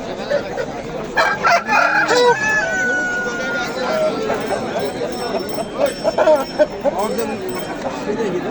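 A dakan rooster crows loudly amid busy market chatter and clucking fowl at a poultry bazaar in Andijan, Uzbekistan, with voices talking throughout the bustling scene.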